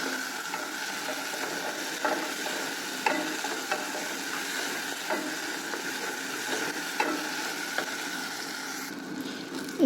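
Ingredients fry in a pan while a utensil stirs them, soft scraping taps recurring every second or so over a continuous sizzle, close and alone.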